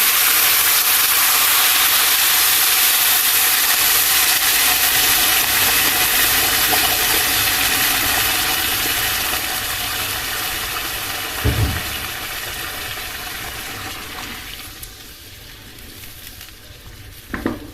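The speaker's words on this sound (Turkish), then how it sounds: "suyunu ekleyeceğim şimdi" Water poured into a hot pot for rice pilaf gives a loud, steady hissing sizzle that slowly fades, with a soft thump near the end.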